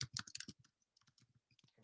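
An email address is typed on a computer keyboard, quick bursts of close, crisp key taps with brief pauses between clusters, alone without talking.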